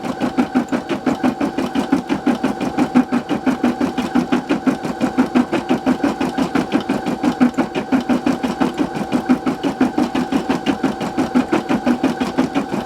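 An embroidery machine stitches an in-the-hoop Christmas ornament with a fast, steady mechanical chatter, rhythmic needle strokes repeating evenly and loudly up close throughout.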